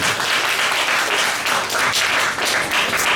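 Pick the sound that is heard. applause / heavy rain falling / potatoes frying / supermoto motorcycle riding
applause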